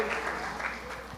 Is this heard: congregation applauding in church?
yes